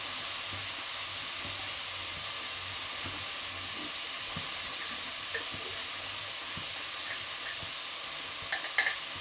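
Pork ribs frying and being stirred in a pan, a steady close sizzle with occasional scraping stirs and a few sharper clinks near the end, no talking.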